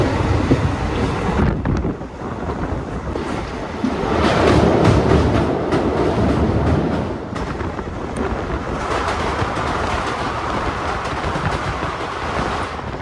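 Steady rumble and rattling clatter of a passenger train running from Srinagar to Banihal in Kashmir, heard from inside a coach with wind buffeting the microphone, loud and continuous throughout with no talking.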